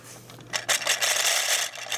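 A Thomas Wooden Railway coal loader conveyor runs with a dry, grating rasp and scrape, starting softly then swelling into a steady, fairly loud rough rubbing with slight pulsing over about two seconds.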